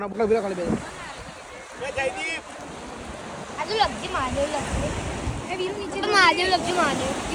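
Sea waves rolling onto the shore at Somnath make a steady broadband wash, with people talking close by over the surf throughout.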